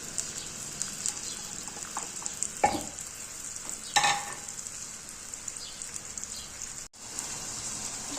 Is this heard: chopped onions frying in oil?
yes